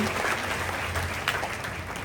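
An audience applauds to welcome a speaker back onto the stage at a student guidance camp, a short burst of dense, steady clapping heard from within the hall.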